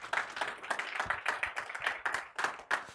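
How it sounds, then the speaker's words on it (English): Audience applause greets a speaker taking the stage at a machine-learning conference: a dense crowd clapping steadily for three seconds, with a few louder individual claps standing out. "give a round of applause to Jan Jongboom"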